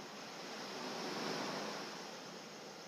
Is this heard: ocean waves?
yes